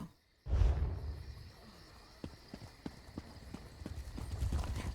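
A horse in the video game The Elder Scrolls Online sets off after a soft whoosh, its hooves clip-clopping in a steady trotting rhythm, faint and in the background, with a low rumble building toward the end.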